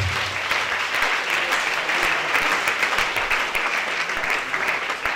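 A church congregation claps loudly and steadily for Jesus, a dense, continuous wash of applause from a large crowd that holds at an even level for several seconds.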